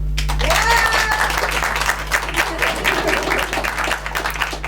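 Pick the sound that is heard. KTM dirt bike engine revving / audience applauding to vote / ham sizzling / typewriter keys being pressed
audience applauding to vote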